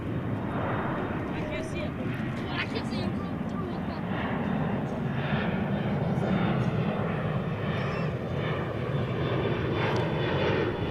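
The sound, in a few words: Boeing 777 aircraft on final approach at DFW Airport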